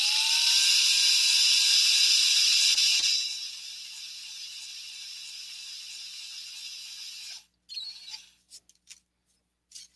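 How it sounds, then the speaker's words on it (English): A small high-pitched drill whines steadily into a miniature figure's sandal, then drops to a lower sustained buzz before cutting off, followed by a few brief bursts of drilling. "I don't want to drill through his sandal"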